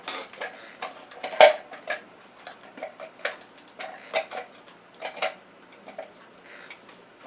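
Blended onion and garlic paste being scooped into a bowl, a run of light clinks and taps of a utensil against the container at an irregular, steady pace, close up with no talking.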